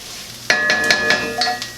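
Tomato paste hits a hot cast iron pot with a sudden loud sizzle, followed by several quick scraping strokes and metallic clinks of a utensil in the pot.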